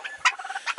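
Farm turkeys let outdoors to forage give a short, nearby burst of rattling gobbles and clucks lasting under a second.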